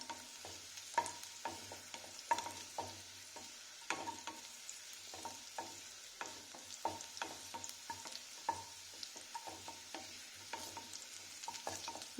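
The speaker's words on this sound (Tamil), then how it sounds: "நல்லா ஃப்ரை ஆகட்டும். எண்ணெயிலையும் நல்லா வதக்கிக்கோங்க." Garlic frying in oil in a pan while being stirred, with a steady low sizzle broken by frequent short scraping and stirring knocks from the utensil, close and moderately quiet, no voices.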